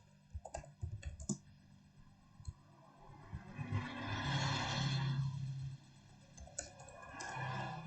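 A ping command typed on a computer keyboard, heard as quick runs of close key clicks over a steady background hum with no speech.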